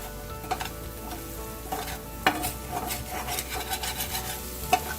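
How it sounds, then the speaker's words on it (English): A metal utensil scrapes and stirs pepper masala coating the bottom of a pan for crispy jumbo shrimp pepper roast, giving a steady low sizzle with several sharp scraping clicks and clacks spread through the clip, close by and without talk. "So I'm going to scrape as much as I can get."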